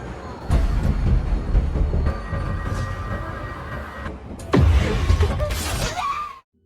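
Subway train rumbling along the tracks in a New York scene from Scream VI, a steady loud roar with rattling and clatter, a brief lull, then a louder surge before it cuts off abruptly.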